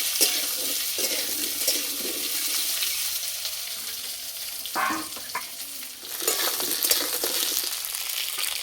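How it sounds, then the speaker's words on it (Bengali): Whole fenugreek seeds and potatoes frying in a little oil for a light village-style curry, a broad hissing sizzle with watery bubbling and a few stirring scrapes, close and continuous. "রান্নার জন্য অল্প একটু তেল দেব। ফোড়নে দেব গোটা মেথি, আলু দেব।"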